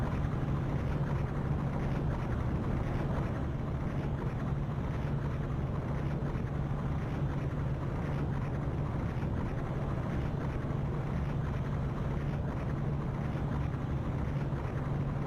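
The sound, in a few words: ship engine throttling in Ship Simulator video game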